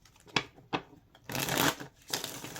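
Tarot cards are shuffled close by in a few short riffles and then longer bursts of rapid flapping, quiet and with no voice over them.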